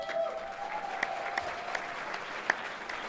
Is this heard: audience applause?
yes